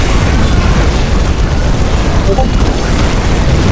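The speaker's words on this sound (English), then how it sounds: "Fire in the hole! Let the grenade fly!" A grenade blast in the Warhammer 40,000 strategy game Dawn of War, a loud, sustained booming roar that fills the whole clip with dense rumble and battle noise.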